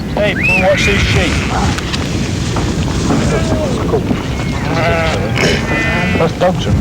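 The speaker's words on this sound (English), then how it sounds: "Hey, come and watch these sheep." Sheep on a limestone-dale hill farm in the Pennines bleat repeatedly, several overlapping calls near and far, over gusty wind rumble on the microphone.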